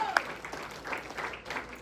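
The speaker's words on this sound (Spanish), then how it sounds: "Denle un fuerte aplauso al Señor." Church congregation applauding during a Spanish-language worship service, a steady crowd clapping texture throughout with voices faintly mixed in.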